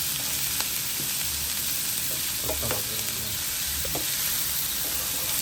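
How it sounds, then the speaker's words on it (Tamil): Chicken pieces frying under a lid in a pan over a low flame give a dense, continuous hiss and crackle, with a few faint clinks over the steady sizzle. "இப்படியே பிரட்டி போட்டு மூடிடுங்க. மெல்லியாக நெருப்பில் விடுங்க. எல்லாம் காய்ச்சி வடிவாக பொரியும்."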